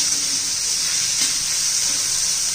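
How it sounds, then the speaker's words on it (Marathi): Tomato and green peas sauté in hot oil, giving a steady, close hiss of sizzling that runs evenly throughout. "छान असं तेलामध्ये परतून घ्यायचंय"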